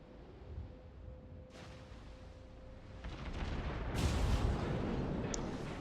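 Heavy naval gunfire from battleships in World of Warships, with the Nagato nearby, comes as a low rumbling boom that swells from the middle onward amid sustained battle noise, with a sharp burst near the end.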